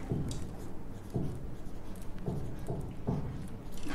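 Pen writing on paper while an accounting table is filled in, with soft scratchy strokes repeating in short bursts, close and fairly quiet, with no talking.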